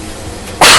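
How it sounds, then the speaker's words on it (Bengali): A single short, sharp sneeze bursting out at the very end after a moment of quiet kitchen hiss, close and loud, brought on by chilli fumes while mutton cooks. "বাবা কি হাঁচি লাগছে, লঙ্কার ঝাল উঠছে"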